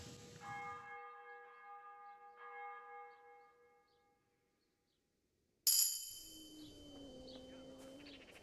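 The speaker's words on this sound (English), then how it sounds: "Oh, there's the morning bell." Morning church bell in Kingdom Come: Deliverance, a ringing toll that decays over several seconds and then falls silent, before a burst of bright birdsong and a lower sliding tone.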